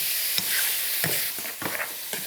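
Ground beef fries in a very hot pan with a steady high sizzle. Several scraping stirs of a utensil break through it at irregular intervals.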